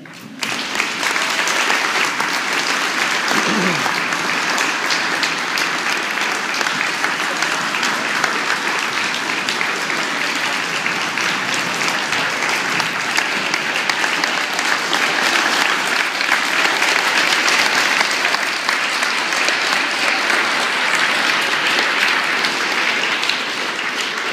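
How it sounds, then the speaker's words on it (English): Sustained applause from a large crowd at a Veterans Day ceremony, steady and loud throughout without letting up. "Thank you very much for that wonderful applause."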